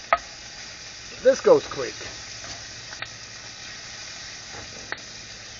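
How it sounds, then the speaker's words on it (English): Thinly sliced bacon sizzles in a pan as its fat renders, a soft, steady hiss underneath a brief stretch of nearby talking and a few sharp clicks. "Let's render the fat out of it a little bit"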